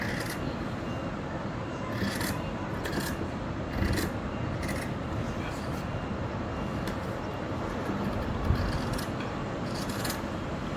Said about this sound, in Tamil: இப்போ கட் பண்ணுறோம்.